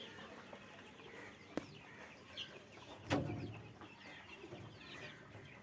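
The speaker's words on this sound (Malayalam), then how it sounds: "ഇതാണ് അടുത്തുള്ള കോഴി." A mother hen on a farm gives a few soft clucks and sharp calls against quiet outdoor background, fairly faint with a couple of louder bursts.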